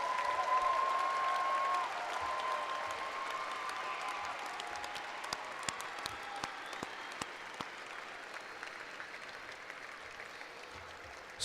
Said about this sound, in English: Seniors, please stand, turn, and applaud these fine people as a thank you to those who have contributed much to your success